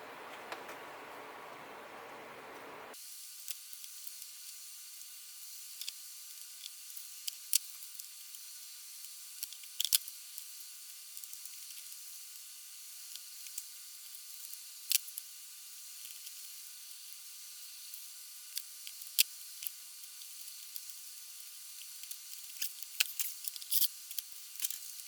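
Plastic mini split line cover being cut at a 45-degree angle, a sequence of sharp, close snips and crunches spaced irregularly over a hissy quiet background, with no talk.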